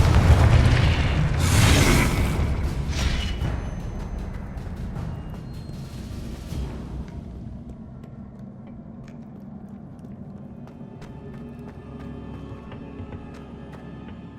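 A Confringo blasting spell goes off in Hogwarts Legacy, a loud booming explosion with a sharp burst that rolls into crackling debris and a long fading rumble, leaving a quieter game ambience.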